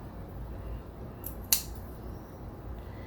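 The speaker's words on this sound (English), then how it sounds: "Now I'm gonna snip it." Sharp scissors snip fabric once for a handmade fabric-wrapped earring, a single crisp cut standing out clearly against a quiet background.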